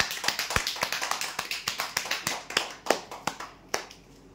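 Scattered applause for a lottery draw winner, a modest gathering clapping in uneven close bursts that thin out and fade after a few seconds.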